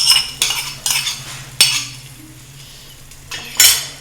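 Ghee-fried coconut and raisins tipped into a pot of green gram and jaggery payasam, giving a few sharp metallic clinks of a spoon on the pan, each followed by a brief sizzle, with quiet gaps between.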